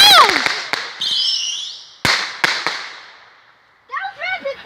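A rapid-fire 25-shot fireworks cake goes off nearby in a quick run of sharp cracks and pops, with whistling tails and crackling between bursts, then a short pause before more popping.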